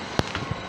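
A turned wooden pipe bowl dropping onto a hard surface, one sharp close knock followed by a couple of fainter small bumps.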